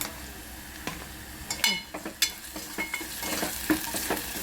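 A spoonful of cumin seeds sizzles softly in a hot pan, with scattered scraping stirs and light clinks of a spoon against metal across a few seconds.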